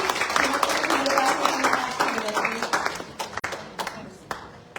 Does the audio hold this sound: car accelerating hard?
no